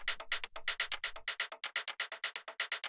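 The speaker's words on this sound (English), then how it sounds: "And then I also have an echo on there." Shaker percussion for a minimal house track, repeated in quick, even hits with a dotted-eighth echo trailing each one, filling the spaces into a steady dense pattern. A low thump sits underneath for the first half.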